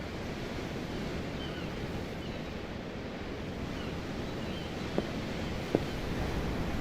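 Steady ocean surf and wind from the Tales of Arise video game, a continuous dense wash of waves with gusting wind, heard from a ship's deck with no talk.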